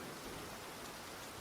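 Steady rain falling, a soft, even hiss of dense drops with no breaks or other sounds, faint and continuous throughout.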